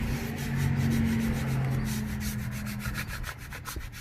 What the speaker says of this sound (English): And I really squeegee this in.